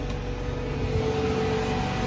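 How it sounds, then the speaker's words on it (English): A crypto mining rig with AMD a2000 graphics cards gives off a steady, close, droning hum from its cooling fans, with a faint tonal whine and no pauses. "So excuse the fan noise."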